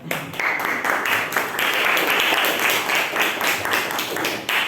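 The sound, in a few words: classroom applause for group 3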